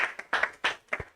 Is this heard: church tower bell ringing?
no